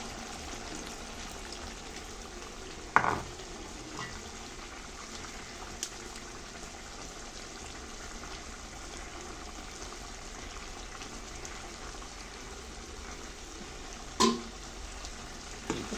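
Drumstick and jackfruit seed curry bubbles in a pan with a steady, soft sizzle and simmer. Two brief sharp knocks from a utensil stand out against the even cooking noise.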